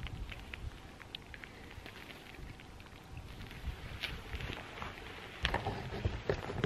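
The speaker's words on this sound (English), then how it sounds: "Hey, it's raining. Actually raining." Rain falling at a mountain campsite, a steady soft patter with scattered drips and taps close by, growing a little louder toward the end, with no voices.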